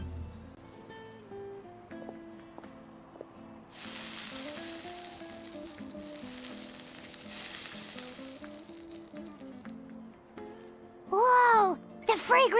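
Fish searing on heated armor in the Genshin Impact video game, a steady hiss of sizzling frying that swells loudly midway, layered under game music with a bright chime burst near the end.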